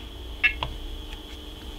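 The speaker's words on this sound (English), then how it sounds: "you can hear the beep" A single short electronic beep sounds once from a Tektronix Type 222 portable oscilloscope under repair as it switches on, over a steady background hum, followed by a faint click.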